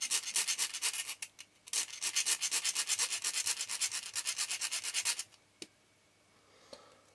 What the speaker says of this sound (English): can use this Phillips screwdriver and a small file, and just take the sharp, the very pointy tip off